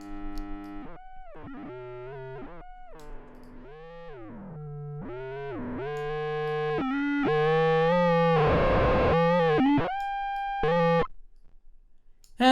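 Crude synthesized tones driven by a chaotic attractor patch in Max/MSP, buzzy harmonic drones that jump and glide unpredictably between pitches, swelling into a dense distorted wash before cutting off abruptly, with no talking.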